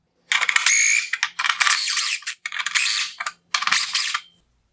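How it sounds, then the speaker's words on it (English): A 5/16 inch socket ratchet clicks rapidly in four separate bursts, turning headlight adjusters on a 2015-2018 Nissan Murano LED headlight, close and loud with short pauses between runs. "I will use a 5/16 inch socket to turn both of these adjusters all the way to the"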